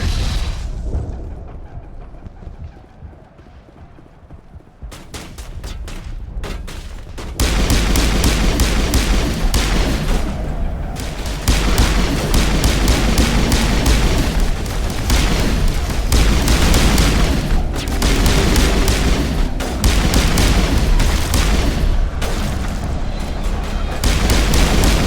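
Grenade blasts amid combat in Mass Effect: a quiet lull, then a few sharp bursts around five seconds give way to a long, loud, continuous stretch of booms and gunfire with repeated heavy impacts, close and dense.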